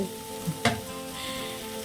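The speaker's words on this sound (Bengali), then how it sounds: "মাছ ভাজা চলছে ঢ্যাঁড়স ভাজাও চলছে" Okra cut into small pieces frying in a pan with onion, green chili, salt and turmeric, giving a steady low sizzle with a brief stir or clatter partway through, heard alone without talk.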